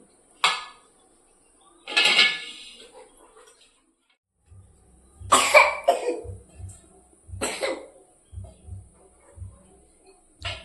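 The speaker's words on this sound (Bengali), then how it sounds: "রান্নাঘরে থাকলে ঝাঁঝ উঠবে, কাশি হচ্ছে" Sharp coughs and throat clearing from cooking fumes in a home kitchen, several separate bursts, mixed with clattering pots, dishes and cutlery.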